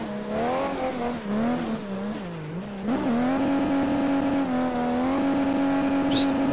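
A car engine drones and revs steadily, its pitch rising and falling as the car slides, with faint tire squeal near the end.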